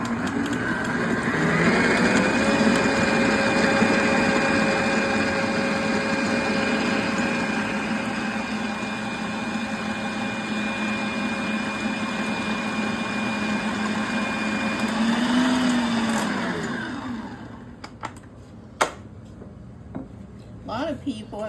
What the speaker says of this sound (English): It is a Drew Barrymore mixer